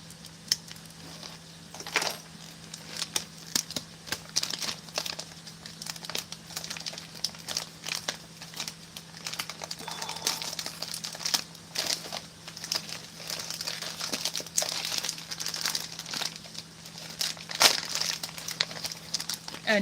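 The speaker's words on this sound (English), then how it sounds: "because the 2023 one does not have a tear notch, I'm going to go ahead and cut one." Scissors cut a tear notch into a US MEE ration pouch (Menu 21, Tuna Lemon Pepper), heard as close crinkling and crackling of the pouch material with sharp snips, over a steady low hum, no talk.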